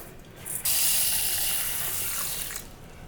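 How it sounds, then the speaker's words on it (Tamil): Running tap water pours into a sink as pearl millet is washed, a loud steady hiss that starts abruptly after a brief rattle and then cuts back near the end. "தண்ணி ஊற்றி 2 டைம் வாஷ் பண்ணிடலாங்க."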